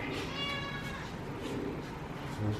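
A cat meows a few times, a drawn-out tonal call near the start, with soft voices and room noise underneath.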